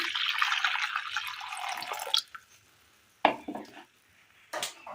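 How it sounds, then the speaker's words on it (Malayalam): Hot water is poured into a cooking pot for about two seconds as a rushing splash, followed by a few sharp metallic clanks and scrapes of the pot and utensils, close and with no talking. "ഒരു ചട്ടി എടുത്തതിന് ശേഷം അതിലേക്ക് ചൂടുവെള്ളം ഒഴിച്ചു കൊടുക്കാം"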